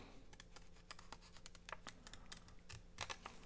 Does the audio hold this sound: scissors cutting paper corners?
yes